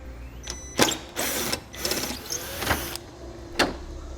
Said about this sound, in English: I'm using a T15 Torx bit to take them out.